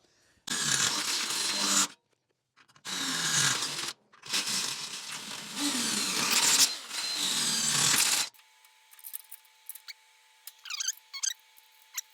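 A power drill bores straight through a small test boat's frame in five close bursts separated by short pauses, followed by quieter handling and clicks.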